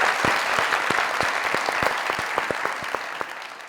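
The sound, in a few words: studio audience applause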